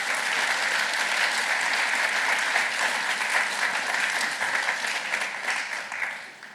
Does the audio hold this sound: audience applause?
yes